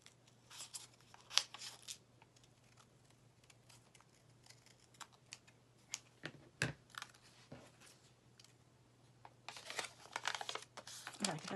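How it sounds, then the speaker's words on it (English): Scissors cut out a paper pattern for a Ramadan decoration, making quiet snipping clicks in scattered bursts with soft paper rustles between them, closer and busier toward the end. "And cut it out."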